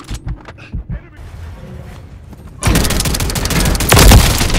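Heavy gunfire in the shooter Call of Duty: Modern Warfare 3, sparse thuds at first, then a dense, loud barrage of overlapping shots and impacts close by.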